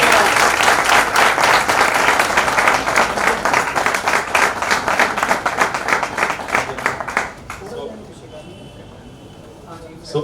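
A large congregation claps loudly at a church certificate distribution and ordination service, dense applause sustained for about eight seconds before thinning out and fading to quiet room noise.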